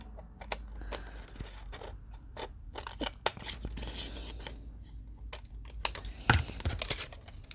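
Small craft piece being trimmed with scissors, a series of close, crisp snips and crunchy cuts in an irregular rhythm, fairly quiet and heard alone.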